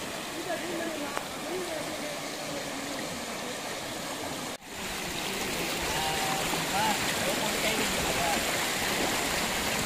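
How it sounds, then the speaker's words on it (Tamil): Water rushes steadily in a stream, a loud continuous flowing roar, with faint voices in the background and a brief dip midway. "எவ்வளவு தண்ணி போயிட்டு இருக்கு"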